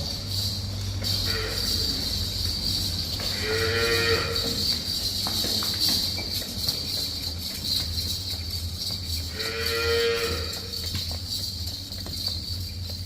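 Two long, deep cow moos on a farm, one partway through and another near the end, over a steady low hum and faint background noise.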